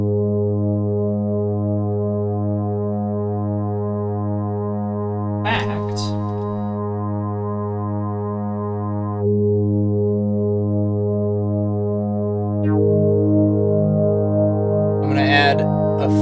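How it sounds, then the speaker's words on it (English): A Roland Juno 106 synthesizer holds a steady, harmonically rich drone from start to finish, thickening slightly midway as another note joins, with two brief noisy bursts on top. "the Juno 106 will sound like this."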